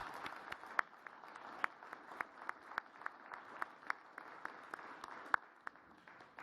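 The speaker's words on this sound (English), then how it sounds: "Let's give them a round of applause." Scattered applause at a board of directors regular meeting, faint and distant, with a light patter of claps and a few sharper individual claps standing out over about six seconds.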